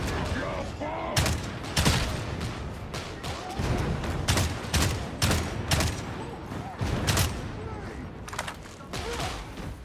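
Gunfire from the video game Warhammer 40,000: Darktide, with loud, repeated heavy bursts and volleys of shots cracking through a dense, continuous barrage of combat noise.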